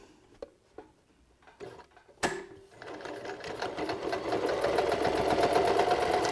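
A sewing machine running a straight-stitch 3/8 inch seam on a knit beanie, starting after a few light clicks and a sharp snap, then building into a steady, fast mechanical whirring hum that grows louder and continues without talk.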